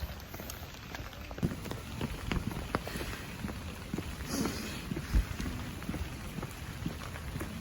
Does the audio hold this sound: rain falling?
yes